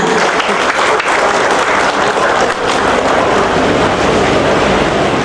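Loud, dense applause from an audience at a provincial youth organization handover ceremony with a governor, steady and unbroken for several seconds, filling the hall without talk over it.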